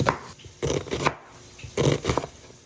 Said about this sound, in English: I'm gonna cut up 1 medium onion.